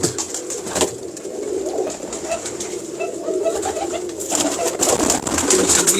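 Pigeons coo steadily at close range, soft overlapping calls from a loft of fancy breeding birds, with other birds faintly chirping behind and no voices.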